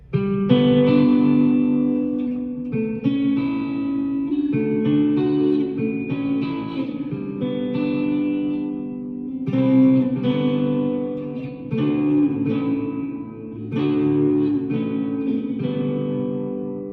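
An electric guitar, a Les Paul Studio with both pickups coil-split in the middle position, plays chords and melodic phrases with a clean, bright, slightly effected tone, steady and fairly loud.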